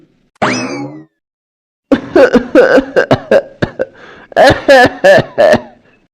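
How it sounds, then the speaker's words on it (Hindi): Close, harsh coughing: a brief strained vocal sound, a pause, then a rapid fit of repeated coughs in two clusters. "अरे ये फिर से आज आपको इतनी खांसी आने लगी?"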